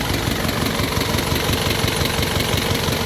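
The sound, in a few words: repaired diesel vehicle engine running without stalling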